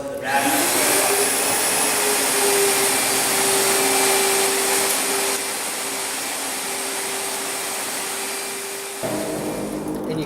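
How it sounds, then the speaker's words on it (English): A loud Ermator wet vacuum roars steadily with a high whine, its pitch shifting as it sucks up concrete grinding slurry, then changing tone near the end. "we're going to turn on the vacuum and just suck it up in the hose"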